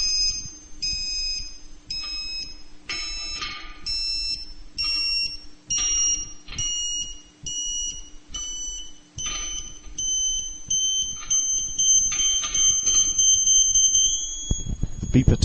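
A satellite signal meter beeps while a Ka-Sat dish antenna is aligned, repeating short electronic beeps that climb in pitch and settle into a continuous high tone, with a voice speaking underneath.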